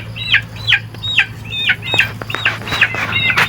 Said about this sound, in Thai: เสียงไก่น้อย